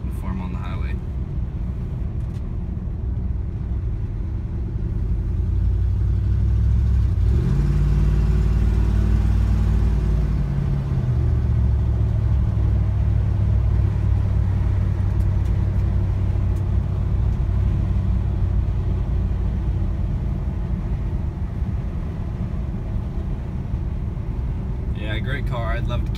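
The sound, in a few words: 1970 Lincoln Continental driving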